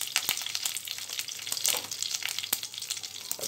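Curry leaves dropped into hot oil for a spinach stir-fry, a dense crackling sizzle with sharp spitting pops throughout, close and loud, with no talking.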